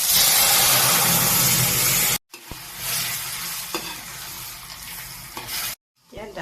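Dal sizzles loudly as it fries in hot oil with dried red chili and is stirred, steady close crackling broken by two brief silent gaps.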